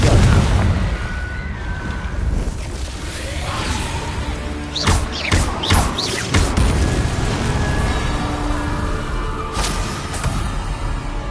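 Confringo blasting spells fired repeatedly in Hogwarts Legacy, a dense string of whooshing bursts and crackling impacts over a constant rumble, with a sharp cluster of blasts near the middle.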